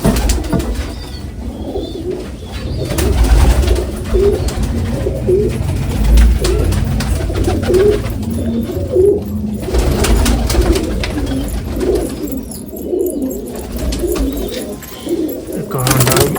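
Pigeons sitting on eggs coo in repeated soft, throaty phrases close by, a low steady run of calls with a faint voice now and then.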